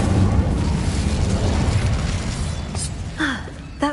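A booming fire-spell blast in a magic video game goes off loudly at the start and fades into a rumbling tail, followed by a few faint effect chimes.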